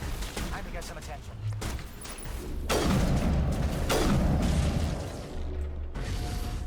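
Sniper gunfire in the Mass Effect video game: a few heavy, sharp shots spaced a second or two apart over a rumbling mechanical background, with indistinct voices in the mix.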